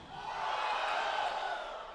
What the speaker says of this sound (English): Crowd on their feet.